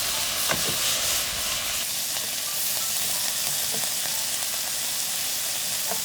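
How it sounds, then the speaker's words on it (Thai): Minced pork with onion and garlic stir-frying in a pan, a steady bright sizzle with occasional clinks and scrapes of a spatula, close and continuous without talk. "แล้วก็มาทำตัวหมูสับมีหอมใหญ่มีกระเทียมผัดหมูให้สุกก่อน"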